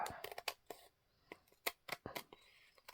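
Scissors snip through lace-patterned masterboard while journal toppers are trimmed, giving a series of sharp, close cuts in uneven bursts with short pauses between them.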